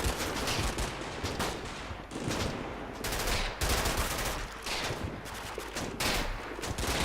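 Gunfire in the war game Combat Mission: Battle for Normandy, dense fusillades of rifle and machine-gun shots in repeated bursts, loud and continuous with brief lulls, no talking.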